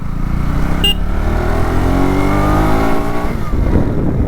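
A vlogger's motor vehicle labours uphill on the Vathalmalai hill road, its engine droning loud and steady at close range, with rising harmonic revs that ease off near the end and no talk over it.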